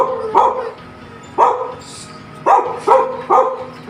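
Several dogs bark in short, separate bursts spaced about a second apart, close by and loud, with a faint whimper between the barks.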